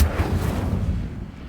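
An Incendio fire spell cast in Hogwarts Legacy, a single loud, close whooshing burst of flame that rumbles low and fades out over about a second and a half.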